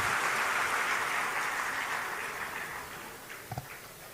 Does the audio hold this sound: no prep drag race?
no